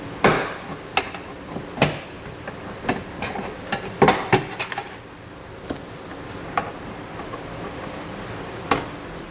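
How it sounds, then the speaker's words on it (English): Plastic fasteners are pried out with a flathead screwdriver while a Curt trailer hitch receiver is fitted to a 2020 Lexus NX 300, giving scattered sharp clicks and pops, close and irregular, with no talking. "We're just going to take a flathead screwdriver and kind of pry out on them, and they will simply just come right out."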